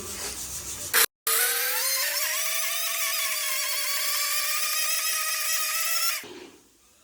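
An electric mixer grinder whirs at high speed grinding masala paste for mutton, a steady loud motor whine running for about five seconds after a brief start, then cutting off and winding down.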